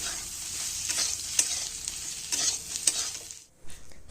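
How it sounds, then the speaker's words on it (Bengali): Soaked soybean chunks frying in a pan, sizzling steadily under sharp, irregular clinks and scrapes of a stirring spoon, close by, with a short pause just before the end. "সোয়াবিনগুলোকে ভালো করে এখন ভাজা ভাজা করে নেব"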